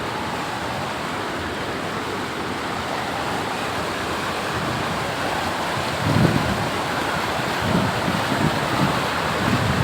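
After heavy rain, water flows strongly at a lake, a broad continuous rushing wash mixed with wind buffeting on the microphone, swelling louder in bursts near the end.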